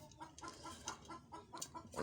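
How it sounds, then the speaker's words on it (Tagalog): Chickens cluck close by in short repeated bursts, a quick uneven run of fowl calls over low background noise, fairly quiet and with no speech. "Pasensya na kahit maingay yung medyo yung manok."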